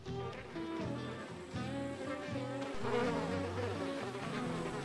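Flies swarm around a riverside campsite on a wilderness canoe trip, their buzzing a dense, continuous, close drone with wings passing near and away.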